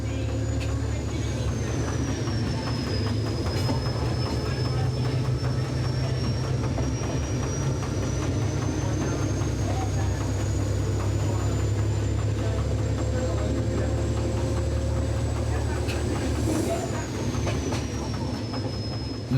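The EAD X 4519 diesel railcar of the Quercyrail association drones steadily on the Cahors-Capdenac line, a continuous engine hum with rail rumble and a faint high whine running throughout.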